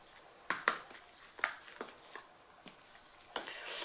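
A spoon stirs a puffy paint mixture in a bowl, giving faint scraping strokes and a few sharper clinks at irregular intervals over a quiet background.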